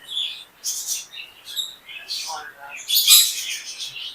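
A pet talking myna at a bird shop gives a series of short, bright chirps and whistled calls in bursts, close and moderately loud, with a busier squawk near the end.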